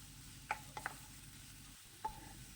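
Small chicken pieces stirred in a pan while frying for a variety fried rice dish, a few distinct scraping clinks of a spoon against the pan over a quiet, low sizzle.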